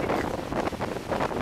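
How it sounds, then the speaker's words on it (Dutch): Gusty wind buffets the microphone in uneven, rumbling bursts, fairly loud and close, with no clear voices. "Het waait wel."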